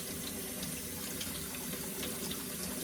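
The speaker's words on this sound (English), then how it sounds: "And typically give everything a rinse because you just never know" Food for burritos is rinsed under a running kitchen tap, a faint, steady rush of flowing water splashing continuously for a few seconds with no talking.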